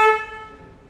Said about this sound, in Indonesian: Klakson saya ganti juga karena standarnya bunyinya gini.